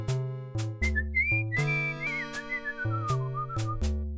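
A melodic whistled tune from the game Quest for Glory 2, gliding through a bright wavering line over a plucked, rhythmic music backing, with no talking.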